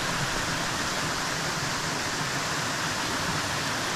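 A small creek high in the Blue Ridge Mountains flows steadily, a continuous close rushing wash of water with no breaks, with no one speaking over it.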